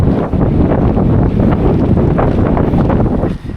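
Strong coastal wind at Anjanvel lighthouse roars steadily and loudly against the microphone, a constant buffeting rush with no other sounds and no talking.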